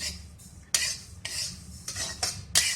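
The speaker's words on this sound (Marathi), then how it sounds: "आता आपण खसखस भाजून घेऊ मंद गॅसवर भाजून घ्यायची" Poppy seeds dry-roasting in a pan over a low flame while being stirred, quick scraping sweeps of a spoon against the metal pan in bursts, with a faint grainy rustle between strokes and no talking.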